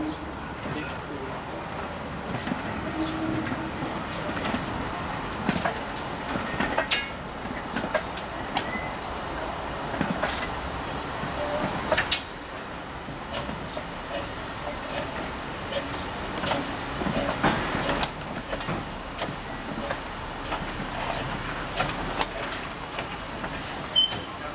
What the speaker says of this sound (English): No. 1369 propels the wagons into the yard.